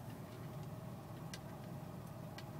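A car engine idles unevenly at low level with a steady rumble, broken by a few faint, sharp ticking clicks spaced irregularly across the short stretch.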